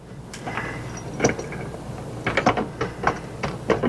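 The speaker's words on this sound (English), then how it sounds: "I should be able to just screw this right in" Screw driven by hand into a pre-drilled hole for an RV window shade mount, producing a string of close, irregular ratcheting clicks and creaks that grow denser toward the end.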